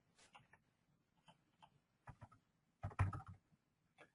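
Quiet clicking of a computer keyboard being typed on, scattered light keystrokes in short irregular bursts with a louder cluster near the end.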